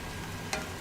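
Chicken thighs fry in butter in a pan, giving a soft, steady sizzle that stays close and even, with a brief stir or scrape near the end.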